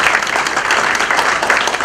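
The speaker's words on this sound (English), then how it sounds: "Please give Shri Bhargava a big round of applause." A crowd claps steadily and densely, a full round of applause close by with no pauses.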